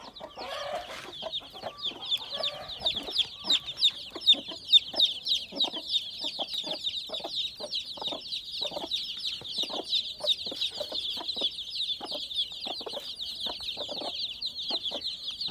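Broody hens with around sixty chicks fill a coop with constant shrill peeping, steady and close, broken up by low, soft clucks from the mother hens.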